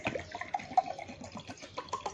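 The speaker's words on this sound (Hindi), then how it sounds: "ये देखिए ये पानी, ये दोनों गिलास में भर दूंगा।" Water is poured bit by bit into two drinking glasses while making Roohafza, a steady trickling and splashing that comes in short uneven bursts at close range.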